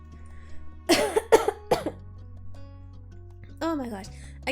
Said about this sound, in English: I can feel myself coughing again